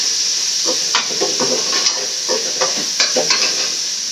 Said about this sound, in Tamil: அப்படியே வதங்கட்டும் வாழைக்காய்